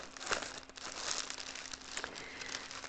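Paper or plastic crinkling close by, a quiet rustle of crackling bursts over a few seconds with no talking.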